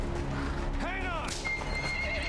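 Horse in Metal Gear Solid V: The Phantom Pain gives a single clear neigh, a wavering whinny near the middle, over game background noise with a voice nearby.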